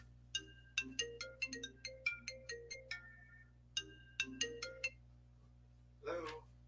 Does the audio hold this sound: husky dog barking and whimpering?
no